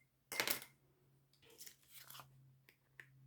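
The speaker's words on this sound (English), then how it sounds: "and then I'll cut off the bulk" Scissors cutting through the thick folded edge of an old book page, a few crisp crunchy snips with a sharp first cut followed by quieter cuts, close and alone over a low hum.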